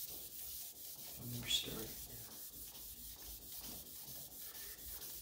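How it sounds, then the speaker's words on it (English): Hardwood case of an old Steinway piano being hand-sanded with sandpaper wrapped on a wood block, a steady close scratchy rubbing that continues under soft background noise, with a brief louder stroke and a few quiet words. "Now, by using a block of wood, it makes the sandpaper go for the high point."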